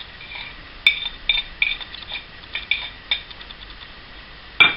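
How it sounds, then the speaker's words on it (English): Chopped crystallized ginger drops into a pan of Seville orange marmalade. Scattered light clinks and taps sound close by over a quiet background, with a sharper clink at the end. "So in goes the chopped ginger"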